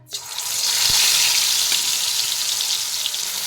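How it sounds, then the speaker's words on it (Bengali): Fish pieces drop into hot mustard oil in a kadai and erupt into a loud, close, hissing sizzle that swells within a moment and then stays strong and steady. "তেল গরম হয়ে গেছে, এবার মাছগুলো আমি এক এক করে দিয়ে ভেজে নেব ভালো করে"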